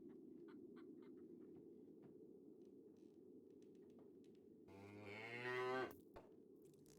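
A cartoonish cow moos once, a drawn-out bellow in a fantasy point-and-click adventure game, rising over a faint steady ambient hum and a few soft clicks.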